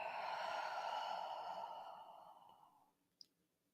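A long, soft exhale during a seated yoga twist in a mellow evening session, a close breathy sigh that fades steadily over about three seconds and ends in a small click.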